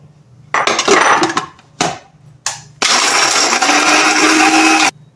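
Countertop blender grinding almonds into powder, with a short whirring burst, two brief pulses, then a long steady loud roar that cuts off abruptly.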